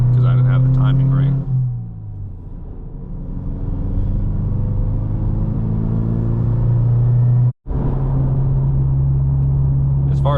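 A Subaru WRX with a manual gearbox drives along, its engine drone droning steadily and shifting pitch as gears change. A sharp break near the end marks a shift.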